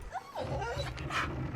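A dog in the video game Pentiment gives a short bark or yip with whimpering tones over a steady background bed.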